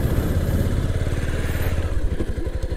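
Bajaj Pulsar 220F motorcycle engine running at low speed while being parked, a close, steady thumping idle with rapid even pulses and some mechanical clatter, no voices present.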